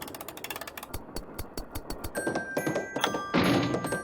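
Mechanical toy game being wound up in a Nancy Drew video game: a steady series of rapid clicking ratchet ticks, followed by bright ringing chime tones as the mechanism starts, close and clear.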